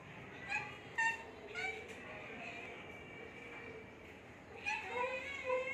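Cats meow repeatedly in thin, plaintive cries while looking for milk during rainy weather, the calls moderately close over steady background noise, with speech partly mixed in.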